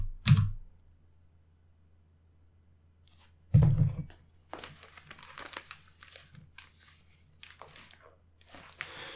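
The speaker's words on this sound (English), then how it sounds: "Just using the keys of my keyboard right now" Keys tapped on a computer keyboard, a few loud isolated clacks early followed by a looser cluster of quieter, irregular key presses and clicks in a quiet room.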